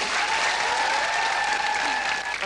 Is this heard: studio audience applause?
yes